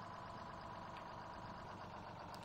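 A fire engine, Engine 72, idles in Farming Simulator 17 at a highway crash scene, giving a steady low diesel rumble that stays constant and close throughout, with no talk.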